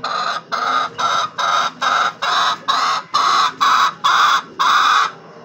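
Green-legged chickens, siblings from the same hatch, cluck close by in a steady run of about ten evenly spaced loud calls, with no talking over them.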